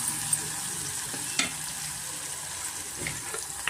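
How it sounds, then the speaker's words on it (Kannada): Onion frying with ginger garlic paste in a pan, a continuous soft sizzle broken by a couple of brief scrapes from a stirring spoon, close by. "ಅದರಿಂದ ನಾನು ಈರುಳ್ಳಿ ಜೊತೆ ಸ್ವಲ್ಪ ನಾನು ಫ್ರೈ ಮಾಡ್ಕೊತೀನಿ."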